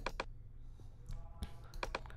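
Computer keyboard keys clicking during work in a music production program: sharp isolated presses in uneven pairs, fairly close, with quiet room noise between them and no talk.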